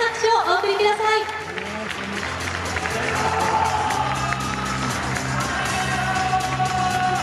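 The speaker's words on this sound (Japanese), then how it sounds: "受賞された鈴名さんに今一度盛大な拍手をお送りください" Applause fills an awards ceremony hall as the Clicker Prize winner Suzuna of the 2017 Japan Race Queen Awards is honored. A dense, sustained crowd clapping and cheering rises after a brief spoken line and holds steady.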